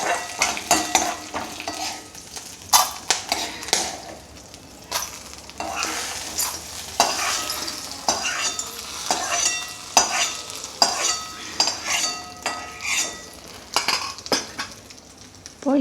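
Mint chutney ingredients stir-fried in a pan, with steady sizzling broken by frequent scraping and clinking of a utensil against the metal, close and fairly loud throughout with no voices.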